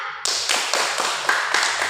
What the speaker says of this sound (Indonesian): Kita tepuk tangan untuk Meiza.